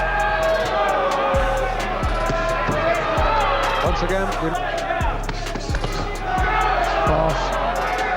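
Rapid thudding punches land repeatedly at a professional heavyweight boxing match under a constant roar of crowd noise, with a voice speaking briefly.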